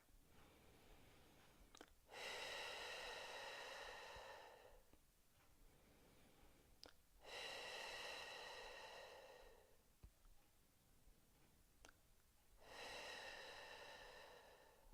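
Three slow, deep conscious breaths, each a long airy inhale and exhale in a quiet guided-meditation setting, with pauses between them and no talking.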